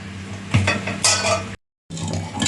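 A spoon stirs onions, tomatoes and green chillies in a pan for chicken curry, giving close, loud scraping and metallic clatter over a light sizzle, with a short silent break before the stirring resumes.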